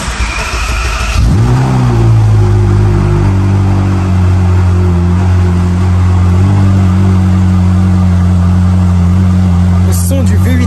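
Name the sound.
Ferrari V8 engine revving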